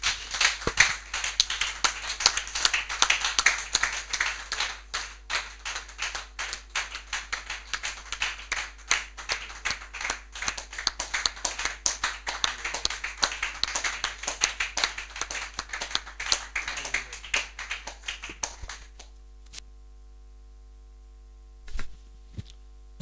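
A church congregation clapping during Sunday worship, many hands beating in a fast, sustained rhythm for nearly twenty seconds before stopping abruptly, leaving near silence with a couple of faint knocks.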